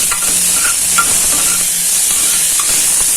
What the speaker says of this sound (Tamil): இப்போ இஞ்சி பூண்டு பேஸ்ட்டு அதையும் லேசாக வதக்கிக்கலாம்.